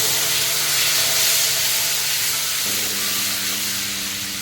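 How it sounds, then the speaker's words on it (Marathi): Red chili masala sizzles in hot oil on a very low flame as a tempering for masoor dal, a loud, continuous close hiss throughout. "गॅस अगदी कमी करून घ्यायचा आपल्याला आणि आपण मग लाल मसाला ऍड करून घेतो"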